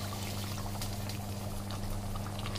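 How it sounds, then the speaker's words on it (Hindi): Water poured from a glass into mutton curry in a pressure cooker, a steady continuous pour over a low, constant background hum. "तो यहाँ पर आप डाल देंगे 1 गिलास पानी,"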